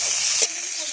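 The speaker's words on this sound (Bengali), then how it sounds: "পেঁয়াজগুলো ভাজা হয়ে গেছে, এরপর এর মধ্যে আমি টমেটো কুচি দিয়ে দেবো।" Fried onions with chopped tomato hiss in a pan for a fish curry, a short, close, steady sizzle that softens abruptly halfway through.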